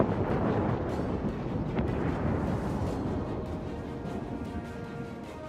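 In Destiny 2, a deep, roaring rumble of a ship exploding dominates, sustained and broad, slowly fading over several seconds with no voices.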